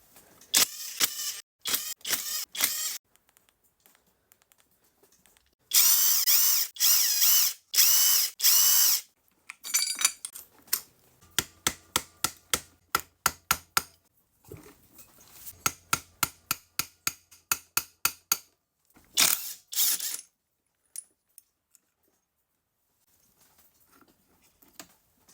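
Hand and power tools working on the clutch of a Yamaha YZ125 two-stroke engine: bursts of impact-gun whirring, rapid ratchet clicks and metallic taps, loud and close, separated by short silences.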